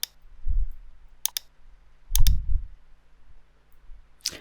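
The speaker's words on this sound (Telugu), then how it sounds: "అండ్ ఓకే క్లిక్ చేస్తున్నాను" Computer mouse clicking during Photoshop work, a few sharp isolated clicks spaced apart, with low thumps of handling noise in between and no talking.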